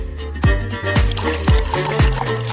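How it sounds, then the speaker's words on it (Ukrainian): Water pours into a saucepan in a kitchen, a close splashing stream with repeated gurgling, dripping pulses and a rising fill tone over a couple of seconds. "Нам треба залити в каструлю води."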